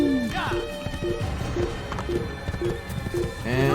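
Video-game horse galloping and jumping in Assassin's Creed, with a steady rhythmic clip-clop of hooves, a whinny at the start and end, and game music running underneath.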